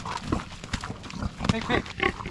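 Low grunts from a female pig at close range during processing, mixed with soft shuffling and scattered bumps in a barn-like space.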